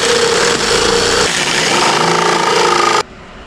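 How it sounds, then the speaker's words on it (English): Jigsaw cutting through wooden boards, a loud buzzing motor drone with a shifting pitch that runs close for about three seconds and then cuts off abruptly. "Got the old jigsaw out."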